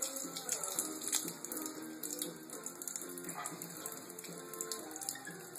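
Water running from a hot water tap with a weak flow, linked to a malfunctioning gas water heater; a steady, thin splashing trickle into a sink, continuous throughout with no talk.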